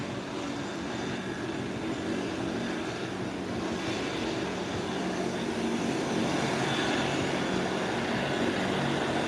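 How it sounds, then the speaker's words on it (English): Steady broadband aircraft engine noise as an Embraer 120 turboprop is marshaled into an airport parking area, a continuous loud whine and roar holding even throughout, with no talk. "The Umbria 120 is being marshaled into the parking area."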